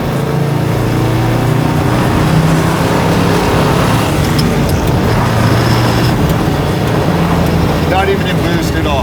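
A 1000 whp twin-turbo 1967 Chevelle with a sequential shifter drives on a road, its engine a loud, steady drone under road and tire noise with no pause throughout.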